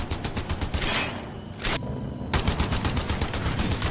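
A rapid fusillade of gunshots fills a film scene, with dense, loud bursts of fire that stop briefly and then resume.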